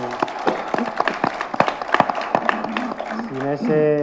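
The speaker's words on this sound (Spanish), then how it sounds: "les quiero pedir por favor un aplauso para ellos" A crowd at a talk on a Moby Dick graphic novel applauds for the team, with scattered, uneven claps under ongoing speech that ends in a sustained voiced tone.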